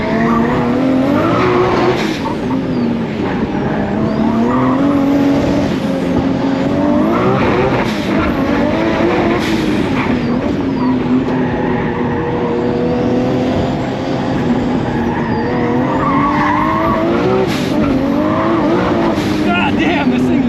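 A Nissan Skyline GT-R races hard through a corner, engine note climbing and dipping steadily with tire squeal and slight understeer, loud and continuous throughout with a driver speaking over it.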